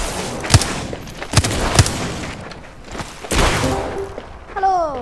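Gunfire in the Apex Legends video game, with several sharp, loud shot bursts scattered irregularly across the moment, separated by quieter game noise and a few small electronic effects near the end.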